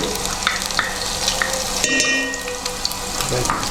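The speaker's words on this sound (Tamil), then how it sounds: "இப்போ இஞ்சி வெள்ளை கூட போடுவோம் அதை கொஞ்சம் ஆயிலில் வேக வச்சுட்டு" Ginger and garlic frying in hot oil in a pan for chicken biryani, giving a steady close sizzle with light stirring scrapes and no talking.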